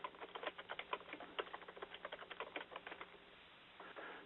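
Rapid, uneven clatter of fingers typing on a computer keyboard, close and fairly quiet. A steady burst of keystrokes runs for about three seconds, then thins to a few scattered taps. No one speaks.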